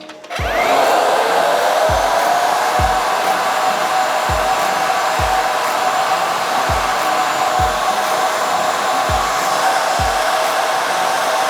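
A hair dryer blows steadily and loudly on hair while it is wrapped around a round brush, with soft rhythmic thumps recurring roughly every second beneath the constant whooshing airflow.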